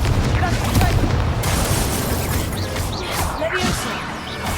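Repeated Confringo spell explosions in Hogwarts Legacy, loud bursts and crashes one after another in a dense, chaotic battle mix that continues throughout.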